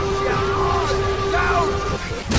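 A character in the medieval combat game Chivalry 2 lets out a sustained loud yell with a strained, wavering pitch, breaking off near the end into a brief noisy burst.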